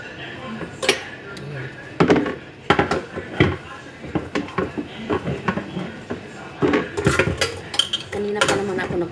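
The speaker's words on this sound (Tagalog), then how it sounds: "Umpisahan ko muna sa hugas." Dishes and pots are washed in a cluttered home kitchen, with irregular clinks and clatters of plates, cutlery and pans scattered throughout, close and fairly loud, interleaved with soft talking.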